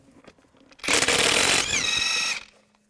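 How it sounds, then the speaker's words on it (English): Impact wrench or power socket tool spinning lug nuts off the rear wheel of a 2015-2020 Cadillac Escalade, one loud sustained burst of rattling hammering lasting about a second and a half before winding down, close by with no talking. "Use a 22mm socket, take the lug nuts off."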